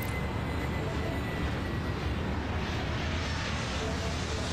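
Steady, broad engine roar of an airplane taking off in the airport-control game Airport Madness World Edition, a constant dense rumble and hiss that holds at an even level throughout.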